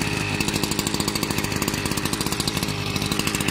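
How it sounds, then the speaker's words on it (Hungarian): A small cutting saw runs steadily at close range, a loud, continuous buzzing drone with a fast rhythmic pulse throughout and no pauses. "Na megnézzük, ez a kis fűrész mit tud."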